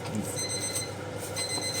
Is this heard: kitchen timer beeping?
yes